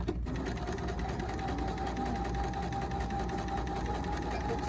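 A sewing machine runs steadily and loudly, stitching quilt fabric for jar grippers beyond a small foundation piece. The motor whirs with a fast, even needle rhythm that continues throughout, close by and alone.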